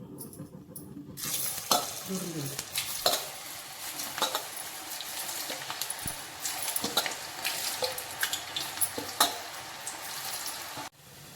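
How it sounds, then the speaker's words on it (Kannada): Round vegetable Manchurian balls deep frying in hot oil, a continuous bubbling sizzle with scattered clinks of a metal spoon against the pan and occasional stirring sounds. "ಇವಾಗ ರೌಂಡಾಗಿ ಉಂಡೆಗಳು ಮಡೀತಾದ್ಮೇಲೆ ನಾವು ಬಿಸಿಯಾಗಿರೋವಂಥ ಎಣ್ಣೆಯಲ್ಲಿ ಡೀಪ್ ಫ್ರೈ ಮಾಡ್ಕೋಬೇಕು"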